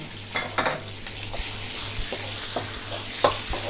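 Chicken liver stir-fried in a hot pan with garlic and chili for a spicy basil dish: a steady close sizzle broken by several sharp spatula scrapes and clinks, with no talking.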